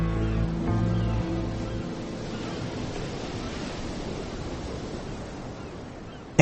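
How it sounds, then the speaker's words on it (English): Ocean waves roll and wash in a broad, steady surf hiss. Tonal music sits underneath at the start before the sea sound takes over on its own, moderately loud and continuous. "The waves rolled by as they had always done."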